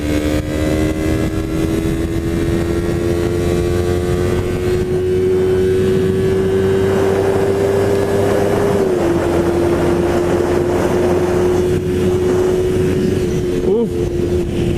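A 2019 Yamaha R3 sport motorcycle engine drones steadily at speed, its pitch rising slightly then dropping as it shifts, with a rushing wind noise throughout.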